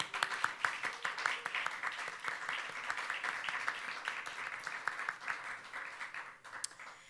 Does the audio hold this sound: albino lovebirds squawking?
no